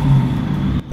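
A car engine catches and revs in Project Zomboid, a short, loud, rumbling burst that cuts off abruptly near the end.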